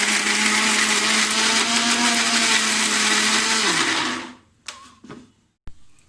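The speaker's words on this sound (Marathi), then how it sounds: "आता आपण ते मिक्सरमध्ये वाटून घेऊया." A mixer grinder whirs loudly and steadily for about four seconds blending a spice paste for clam curry, then winds down, followed by a few clicks and knocks.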